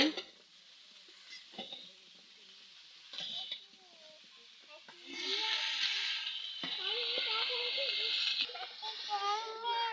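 Cauliflower pieces fry in a pan with a loud, bright sizzle that swells midway, while a utensil scrapes and stirs, and voices, including a child's, sound over the cooking.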